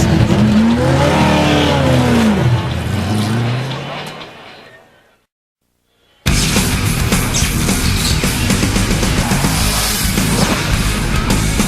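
NASCAR Winston Cup stock cars roar at the Phoenix Checker Auto Parts 500 in 2002, with loud engine drone and a swooping pass that fades to silence before the racing noise cuts back in at full volume; a broadcast voice is heard early on.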